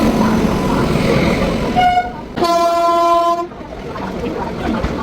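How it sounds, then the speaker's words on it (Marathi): Train number 11302 sounds a loud, close horn while arriving at a station, one long toot cutting over rumbling rail noise before the sound drops away. "फायनली आता ट्रेन येते."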